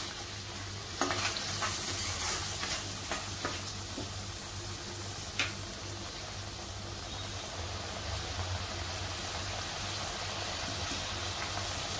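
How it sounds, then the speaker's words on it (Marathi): Green ground paste with garlic sizzles in a pan with a steady hiss, broken by a few scrapes and clinks of stirring, fairly quiet and with no voices. "ते 1-2 सेकंद परतायचं आहे"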